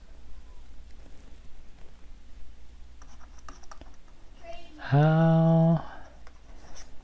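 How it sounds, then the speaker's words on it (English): A stylus scratches and taps softly across the screen of a reMarkable e-ink tablet in short writing strokes, close and quiet, with a brief spoken word cutting in partway through. "as soon as it senses the stylus, it knows that I want to write."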